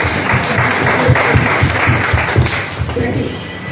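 Loud, sustained applause from a crowd at a film producers' association annual general meeting in Mumbai, honouring the president, secretary, committee and office staff, with a steady wash of clapping and voices mixed in.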